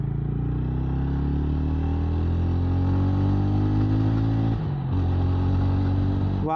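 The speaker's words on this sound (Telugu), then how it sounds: "ఒక సింగిల్ సిలిండర్ ఇలాంటి సౌండ్ రావడం రియల్లీ నైస్." A TVS Ronin single-cylinder motorcycle engine runs with a loud, deep, bassy thrum, its pitch climbing steadily as it revs, then dipping briefly before pulling again.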